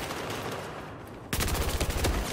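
Rapid automatic gunfire erupts partway through a Battlefield 4 team deathmatch on Xbox 360, loud bursts of shots following a quieter stretch of game ambience.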